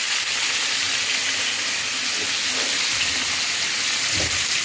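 Vegetables with salt and turmeric fry in a pan, giving a steady loud hiss of sizzling with occasional soft clatters and no talk.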